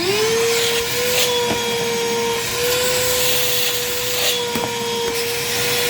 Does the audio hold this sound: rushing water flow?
no